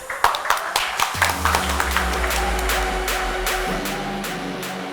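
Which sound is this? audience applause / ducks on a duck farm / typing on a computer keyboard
audience applause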